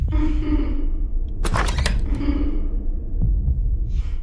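A steady, low, throbbing heartbeat in the dark Roblox horror game The Mimic pulses through the whole clip, with a brief burst of clattering thuds partway through.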